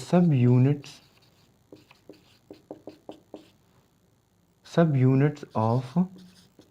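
Pen or marker writing during a biology lecture, a series of short scratchy taps and strokes in a quiet gap between stretches of someone speaking.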